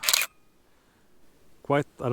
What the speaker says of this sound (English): let's have a look inside the camera as well, a bit closer, and listen to the shutter